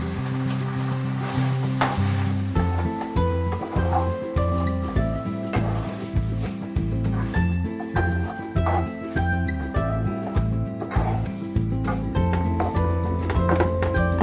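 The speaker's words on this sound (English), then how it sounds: "Ilagay naman natin, syempre, ang pinaka-importante sa lahat, ang tomato sauce" Tomato sauce sizzles and is stirred in a pan while Filipino spaghetti is cooked. A steady frying hiss with stirring sounds runs under prominent rhythmic background music.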